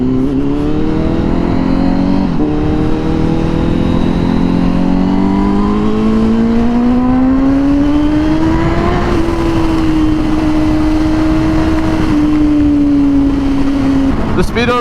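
Honda Fireblade 1000RR-R SP sport bike ridden through downtown Dallas, its engine loud and close, pitch climbing and holding steady through the gears with constant wind rush beneath.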